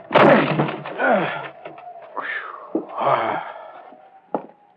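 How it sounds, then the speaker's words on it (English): A door is busted open in an old-time radio mystery drama, heavy thuds, creaks and a splintering crash following one another over about five seconds, close and loud. "Help me bust this door."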